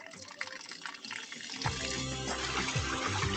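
A tap turns on partway through and cold water runs steadily into a sink, splashing close by after a few quieter clinks.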